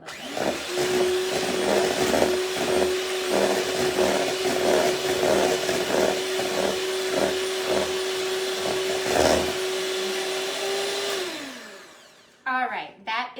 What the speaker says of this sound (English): going to mix up these eggs, and then I'm slowly and ever so gracefully gonna add the flour